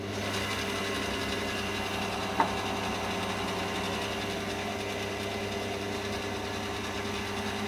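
A Myford ML7 lathe runs at about 600 RPM with a steady mechanical whir and hum, even and continuous at moderate distance, marked by one tiny click midway and no talk.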